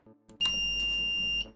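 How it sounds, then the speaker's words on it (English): A 3D printer gives a single short electronic beep triggered by the M300 G-code command, a clear steady tone lasting about a second after a couple of faint clicks, heard alone in a quiet room. "M300 will make the 3D printer beep."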